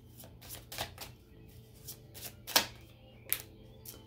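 Oracle cards are shuffled in a run of light, crisp taps and riffles, some sharper clicks standing out, close by and fairly quiet, with a faint low hum underneath.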